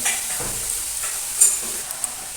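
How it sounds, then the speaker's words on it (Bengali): Cabbage being stirred into a spiced masala in hot oil, giving a soft steady sizzle with light scraping stir sounds and a couple of brief louder clinks, heard close and with no talking. "বাঁধাকপিগুলো একটু মশলার সাথে একটু নাড়াচাড়া করে নিই"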